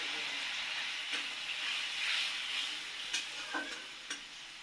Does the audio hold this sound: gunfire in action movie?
no